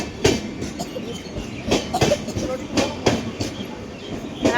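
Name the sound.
train departing from station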